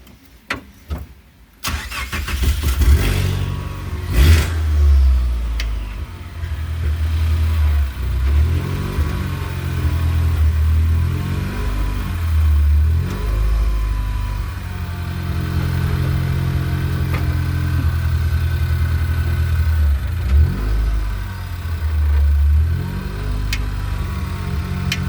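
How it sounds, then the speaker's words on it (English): EcoBoost-swapped Mazda Miata race car engine cranks and fires up, then runs loud and close with uneven revs and several throttle blips over about twenty seconds, with no talking. "Alright, let's start the race car."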